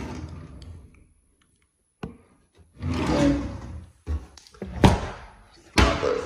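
Worn bathroom drawers slide open and shut with several sharp thuds and scraping rattles, spaced irregularly between brief quiet gaps, close to the listener.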